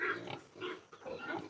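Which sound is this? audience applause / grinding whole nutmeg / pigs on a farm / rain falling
pigs on a farm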